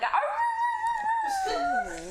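A voice imitates a little dog, a drawn-out whining howl that bends up and down in pitch for about two seconds, close and clear.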